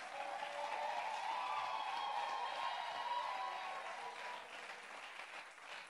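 A church congregation applauds and cheers at a sermon, a dense, steady wash of clapping and voices at full strength that fades slightly toward the end.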